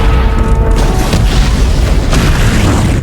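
Boats blow up in Saints Row 2, a loud sustained booming roar of explosions filling the whole stretch with heavy rumble and crackling bursts, no voices.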